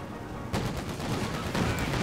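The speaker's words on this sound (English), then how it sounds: "Auto cannon raking through that tin foil armor. Getting off a series of good shots there." An autocannon in Company of Heroes 2 fires a rapid series of shots at a lightly armored 222 armored car, a dense, loud rattle of bursts.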